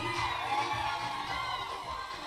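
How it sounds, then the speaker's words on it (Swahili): Wedding guests at a Seventh-day Church of God ceremony in Nyaineke cheer and ululate together, a dense, steady crowd roar with high trilling voices running throughout. "shangwe na vigelegele jamani"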